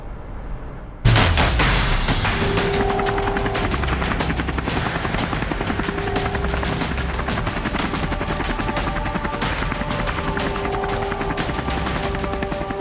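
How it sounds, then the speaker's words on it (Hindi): Mi-17V5 military transport helicopter, the type flown for India's VVIP travel, running loud and steady throughout with a thudding rotor chop and whining turbine hum after a sudden onset, no talk. "MI-17V5 हेलीकॉप्टर की क्या खासियत है"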